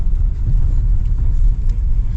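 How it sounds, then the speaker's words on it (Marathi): A car pulls away near Marleshwar temple in Konkan, its steady engine rumble and road noise filling the scene at close range, loud and continuous without voices. "एक गाडीवाला हा तर निघालाय"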